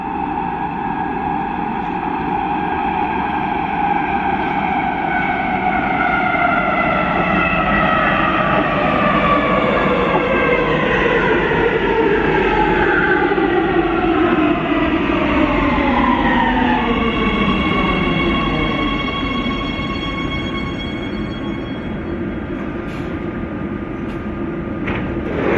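A Warsaw metro train pulling into Bródno station, a loud sustained rumble with a falling whine of the electric motors as it slows, then squeal and hiss toward a stop, heard close on the platform without speech.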